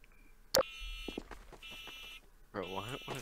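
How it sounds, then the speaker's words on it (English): An alarm clock in a video game beeps in a repeated high electronic pattern with steady tones, heard in bursts around people talking over game chat. "Oh, it was our alarm clock."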